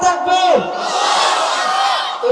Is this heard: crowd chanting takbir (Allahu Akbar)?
yes